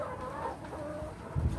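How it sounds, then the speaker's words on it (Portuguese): Laying hens in a first flock on a poultry farm cluck softly and continuously in close range, with a few louder low calls near the end. "esse aqui é meu primeiro lote de galinha"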